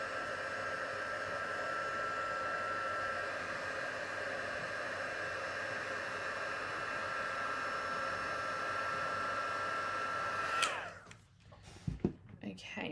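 Embossing heat tool blowing a loud, steady hot-air whoosh for about ten seconds to melt gold embossing powder on a card, then switching off into quieter tapping and handling noises.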